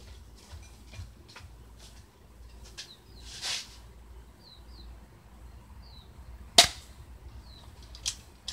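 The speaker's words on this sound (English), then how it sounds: "This is a BB gun, by the way" A BB gun fires several faint, quiet pops spaced irregularly outdoors, with one sharper, louder crack partway through and birds chirping softly in the background.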